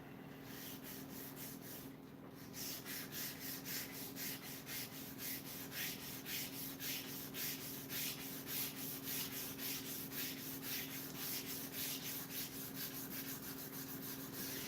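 Hand sanding of wood with steady, rhythmic back-and-forth rubbing strokes, close and fairly loud, continuing after a brief pause at the start, with a constant low hum in the background.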